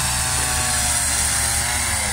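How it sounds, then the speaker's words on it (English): A chainsaw carving wood at a covered bridge festival runs with a continuous, loud, high-revving buzz that holds steady. "We got a guy doing chainsaw art right here."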